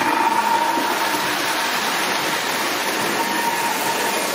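A model or miniature locomotive runs at half throttle, giving a steady, loud, broadband rushing and whirring drone that stays even and close for the whole stretch, with no talk.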